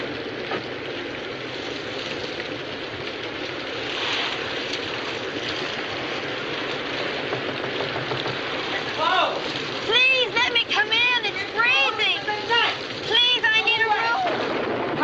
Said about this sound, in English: the storm had broken, and the rain had begun to fall.